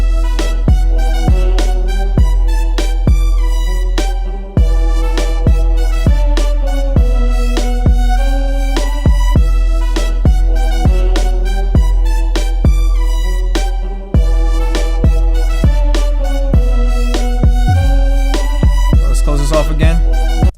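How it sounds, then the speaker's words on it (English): Deep 808 bass notes drive a loud, dense hip-hop beat, sustaining under steady drums and melodic layers with occasional sliding pitch, playing continuously without any talking. "So it's gonna sound like this to basically complete the 808s."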